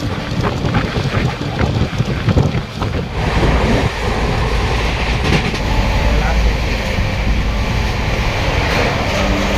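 The Rupashi Bangla Express runs from Santragachi toward Purulia, a loud continuous rumble and rattle of the moving train with wind buffeting the microphone and occasional clatter, faint voices mixed in.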